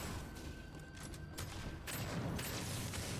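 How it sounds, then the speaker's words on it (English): Shotgun blasts in the video game Deadzone: Rogue, a few loud broadband bursts with short decays over a steady game background, no talking. "let's go start shooting some things. I only get 2 bullets inside of this shotgun"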